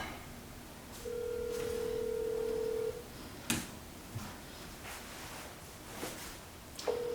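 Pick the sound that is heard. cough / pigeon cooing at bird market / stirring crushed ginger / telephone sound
telephone sound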